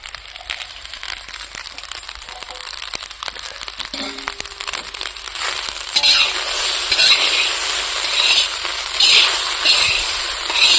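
Egg fried rice being stirred and fried in a pan, village style, with steady scraping and crackling sizzle throughout that grows louder and busier in the second half, close up and without talk.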